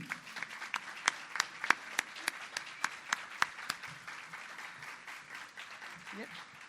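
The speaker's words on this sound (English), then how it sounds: "If you can give it applause, please." Sparse, faint applause: scattered individual claps at an uneven rhythm from a small crowd at a business networking event, with a voice speaking underneath.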